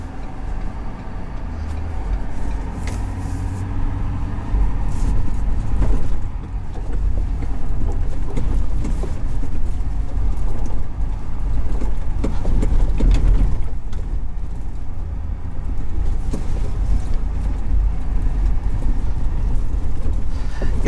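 A 2021 Ford F-350 STX Powerstroke pickup running unloaded over a rough road section, heard from inside as a loud, steady low rumble with bumps, rattles and thumps from the bouncy ride.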